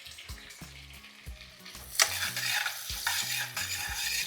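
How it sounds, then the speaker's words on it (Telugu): Onions and small sambar onions fry in a pan for gongura chicken pulao, a steady sizzle under repeated scraping stirs, growing louder as the ingredients are tossed. "ఇవన్నీ వేసి బాగా వేగనివ్వాలి."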